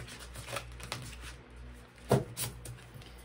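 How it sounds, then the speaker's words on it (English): Soft papery riffling and a few sharper slaps of tarot cards being shuffled up close, quiet and irregular, with no talking. "shuffling."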